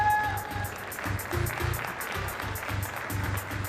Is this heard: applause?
yes